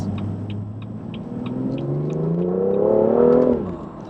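A BMW M2 accelerates hard, its engine note climbing steadily in pitch as the revs rise over several seconds, then dropping sharply at a gear change, loud and close with no talk.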